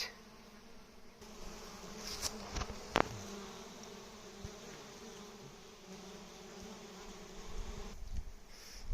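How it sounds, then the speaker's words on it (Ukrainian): Honeybees hum steadily at the hives of a sunflower-honey apiary during a strong nectar flow, a close, continuous buzzing drone with a few brief knocks and no talking. "Бджілки працюють."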